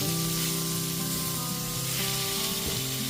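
Radish with sugar fries in a pan while it is stirred, giving a continuous sizzle and hiss with a few scraping stir sounds, steady and moderately loud with no voices.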